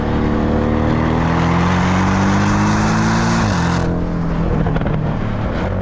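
A Porsche 718 Boxster S with a mid-mounted inline four-cylinder engine runs loud and close with a steady drone, its pitch climbing slightly before a sudden drop as the revs fall, with no talking.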